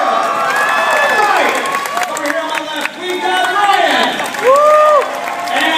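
A crowd at a Fear Factor contestant introduction cheers and claps, with whoops and shouts rising and falling, while an announcer's voice talks over the noise throughout.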